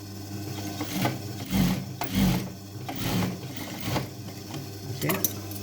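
A sewing machine running a double seam on jeans with bursts of stitching that rise and fall in uneven runs, close by, rubbing fabric between them and a voice speaking over parts of it.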